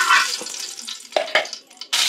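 Ghee goes into hot oil in a pan, giving short bursts of sizzle and spatter with a few soft clinks, close and irregular, ending in a louder hiss.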